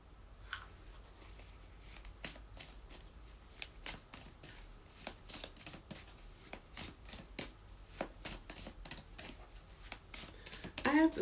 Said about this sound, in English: I have gotten so much better at shuffling